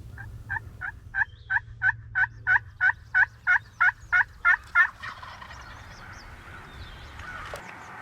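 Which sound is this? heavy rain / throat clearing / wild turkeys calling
wild turkeys calling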